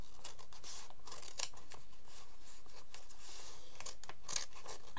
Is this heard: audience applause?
no